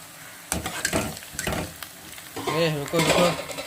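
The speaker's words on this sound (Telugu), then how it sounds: "మునక్కాయలు వేసేసుకొని వాటిని బాగా ఫ్రై చేసుకోవాలి" Drumsticks frying with onions in oil in a home kitchen pan, a few sharp stirring scrapes and clatters followed by a steadier sizzle, close and moderately loud.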